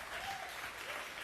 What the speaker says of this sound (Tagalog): yung pinakamalakas sa palakpak para sa Panginoon.